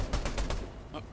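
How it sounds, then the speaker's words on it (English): Gunfire in the video game Fortnite, several quick shots in a short burst near the start, then a sparse pause and one fainter shot or impact; a voice murmurs faintly underneath. "Oh, gunfire?"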